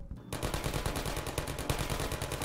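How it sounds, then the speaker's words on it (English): Rapid automatic gunfire in Half-Life 2, a fast steady stream of sharp repeated shots that starts abruptly after a brief quiet moment and continues without letup. "I'm hearing gunshots."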